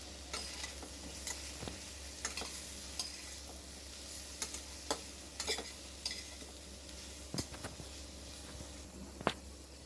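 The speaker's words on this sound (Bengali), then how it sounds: "এবার ভালো করে কষিয়ে নেবো।" Ginger paste, salt and spices are sautéed in a pan for dal khichdi. A spoon scrapes and stirs in irregular knocks over a soft, steady sizzle, close and fairly quiet.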